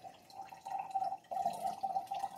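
Cold brew coffee pours through a rinsed filter with a steady trickle of liquid, a continuous close drip-and-pour with a brief break partway through.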